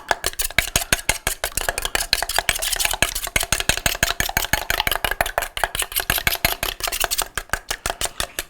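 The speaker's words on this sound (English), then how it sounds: "let's just whisk these up a little bit, or with a spoon" A spoon whisks eggs in a bowl for a quiche with fast, rhythmic clicking taps against the sides, steady and close throughout and without any speech.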